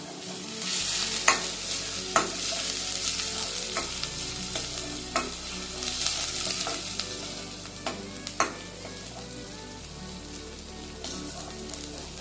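Half-moon slices of a medium onion are stirred in a pan over high gas, a steady loud sizzle with repeated sharp scraping strokes of the spatula throughout, no talking.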